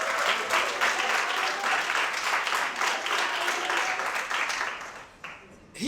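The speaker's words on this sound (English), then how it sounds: "Please applaud for yourselves." An audience at a school public speaking event applauds, dense sustained clapping that stays loud for several seconds and then thins out near the end.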